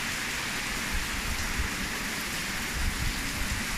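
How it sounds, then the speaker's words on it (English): Heavy rain of the rainy season in the Gambia pouring steadily on surfaces around a village house, a dense, continuous hiss with faint low rumbles, even in level and with no voices. "Rain, rain, go away"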